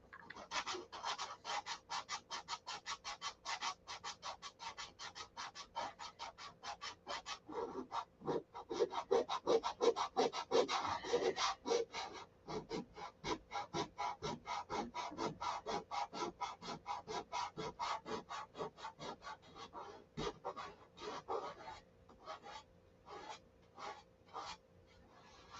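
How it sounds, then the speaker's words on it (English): Hand sanding a part on a Viper: steady rapid back-and-forth scratching strokes of sandpaper, close and fairly quiet, continuing in a regular rhythm with brief pauses and no talking. "Got that sanded out."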